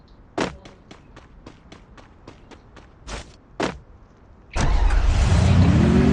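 Several sharp clicks and thuds, then a video game car engine bursts to life and revs up loudly, roaring steadily to the end.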